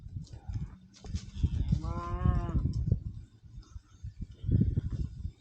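A single cow moos clearly at moderate distance amid outdoor rustling and low thumping noises.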